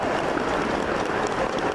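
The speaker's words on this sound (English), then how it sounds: "please give him a warm round of, Edmonton warm round of applause to Mr. John Rhys Davies!" An expo panel audience in Edmonton applauds actor John Rhys Davies, a full, continuous roar of many hands clapping with crowd noise mixed in, loud and steady throughout.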